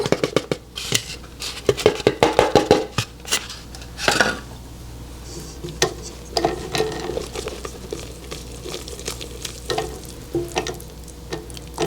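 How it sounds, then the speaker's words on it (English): Cocoa is stirred into a bowl of melted butter with a utensil that scrapes and clicks against the bowl in quick, uneven strokes, loud and close with no voices. "You start with 1 stick of melted butter. You stir in the cocoa."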